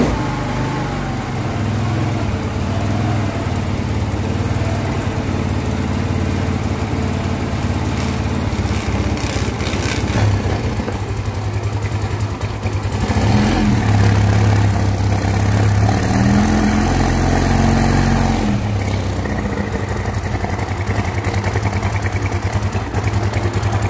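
Carburetted Yamaha Mio Soul scooter engine running with an oil fault, a steady mid-pitched idle that keeps droning for the whole stretch, with a brief rev and swell partway through, near and alone.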